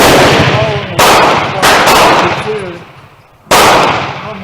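A Remington rolling block carbine in 7x57, Uruguayan issue, fires three sharp, loud reports at irregular intervals, each with a ringing decay, among outdoor background sounds.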